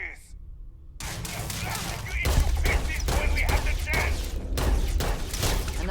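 Rapid video game gunfire killing an enemy, a dense continuous volley of shots and impacts, loud and close, with voices and game effects mixed in.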